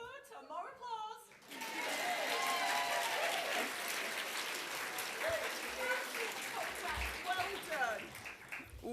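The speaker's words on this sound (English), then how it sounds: "More applause." A conference audience applauds an award winner, full clapping swelling after a brief opening voice and continuing steadily, with cheers and a speaking voice intermittently over the claps.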